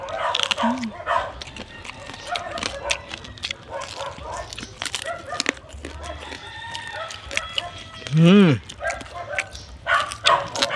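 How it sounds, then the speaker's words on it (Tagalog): Dogs bark and yelp in short, scattered bursts at an outdoor cooking spot, mixed with a rooster crowing midway and people chatting throughout. "Sinsya na po kayo sa mga aso mga studio."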